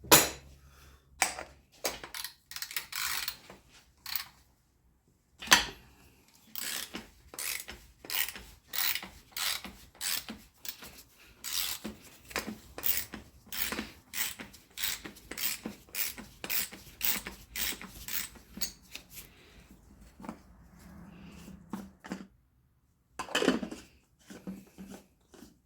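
A special tool works the oil filter cap on a Toyota Venza 2.7L engine, giving runs of close, sharp ratcheting clicks and scraping rasps, with brief pauses between bursts.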